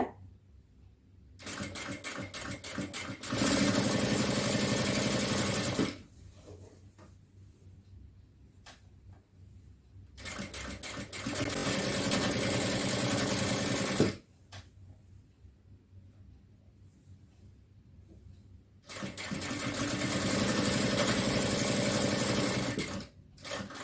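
Sewing machine stitching fabric while joining pieces for a nighty pattern, three separate runs of fast, even whirring of several seconds each, separated by quiet pauses, close and loud.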